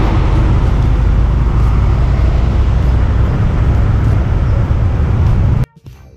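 Heavy road traffic near Luneta in Manila with large trucks close by, a loud, steady broadband rumble of engines and tyres that runs continuously for about five and a half seconds before cutting off abruptly.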